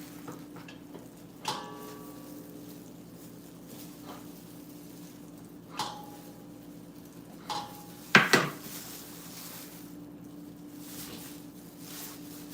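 A knife cuts and cubes food on a board in a home kitchen: a handful of separate sharp chops and clacks, one louder clatter near the end, over a steady low hum.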